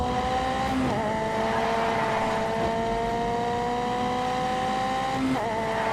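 A car drifting with traction control fully off, engine droning steadily with sustained tonal tyre squeal, sliding pitches rising and dipping through the run, loud and continuous with no talking.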